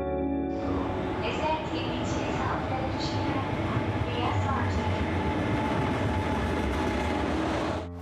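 A train from Suseo pulls into Iksan station in Korea, giving a steady, close rumble and hiss of rail travel that holds for several seconds before cutting off.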